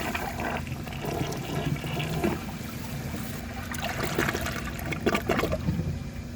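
A 2003 Kohler Serif toilet flushes away a washcloth in a rushing, gurgling flush of water, followed by trickling refill, close and steady, with no talking.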